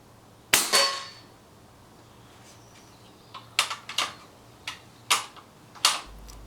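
A Theoben air rifle fires pellets at a target outdoors: one sharp, loud crack, then after a pause five more snappy shots in fairly quick succession, each a short dry report with a brief tail over quiet background hum.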